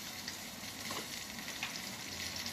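Garlic sizzling steadily in hot oil left over from frying fish, a soft continuous crackle at low volume with no talking.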